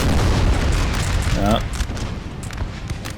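Cannon fire in the Napoleon Total War video game, a loud deep boom at the start that rumbles and fades, followed by scattered distant pops, with talk over the top.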